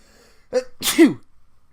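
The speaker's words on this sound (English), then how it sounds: "Wow, I don't think I've ever sneezed on a video before." A single sharp human sneeze, close and loud, preceded by a short inhaling catch.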